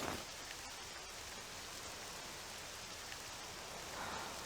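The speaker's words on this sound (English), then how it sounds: "The rain clouds are blowing off towards the mountains." Steady rainfall in the video game Octopath Traveler 2, a dense continuous hiss of rain at even moderate loudness with no breaks or voices.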